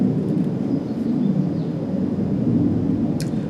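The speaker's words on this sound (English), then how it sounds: "So there's a plane flying overhead." An airplane passes overhead outdoors as a loud, steady low rumbling drone that holds constant throughout, with no talking.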